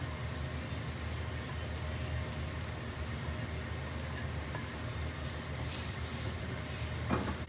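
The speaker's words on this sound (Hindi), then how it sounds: "और सबसे पहले हम इसमें ऑयल में अपनी प्याज फ्राई करेंगे।" Sliced onions sizzling in hot oil in a pan, a steady broadband frying hiss that runs unbroken throughout, moderately close, with a faint clink near the end.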